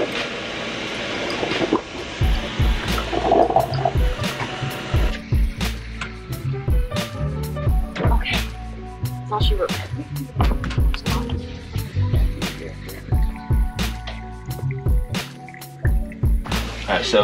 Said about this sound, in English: I've got some coffee going